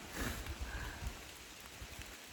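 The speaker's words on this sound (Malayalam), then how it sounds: "ഇവിടെ നല്ല കോടമഞ്ഞിൻ്റെ ഒപ്പം ചെറിയ ചാറ്റൽ മഴയുണ്ട്." Light drizzle patters steadily in misty monsoon weather at the Vagamon hill station, a soft, continuous hiss of fine rain with faint scattered drops, fairly quiet and with no talk over it.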